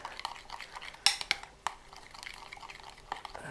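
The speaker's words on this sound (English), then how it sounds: "Just mix it in really, really well. We want to combine that mayo, that American mustard, the gherkins, all those seasoning flavours, put them all together." A spoon stirring mayo, American mustard, gherkins and seasonings in a bowl, soft wet squelching with a few sharp clinks of the utensil against the side, fairly close and unaccompanied by talk.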